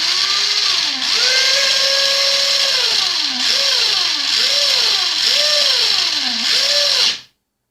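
A toy RC car's electric motor whines loudly and continuously, its pitch rising and falling in repeated swoops as the throttle is worked, then cutting off abruptly at the end.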